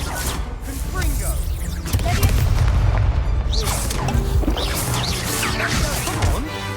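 A Confringo fire-blast spell in the Hogwarts Legacy video game detonates as a loud, booming explosion with crashing impacts and whooshes, dense and sustained, while a voice calls out over the din.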